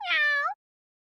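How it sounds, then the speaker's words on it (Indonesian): An animated black cat gives a single clear, close meow lasting about half a second, followed by silence. "Kucing hitam, sang penolong."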